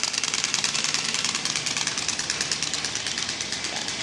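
A bicycle rigged to imitate a motorcycle gives a steady, loud, rapid mechanical chatter like a small engine idling, evenly pulsing and close throughout with no voices.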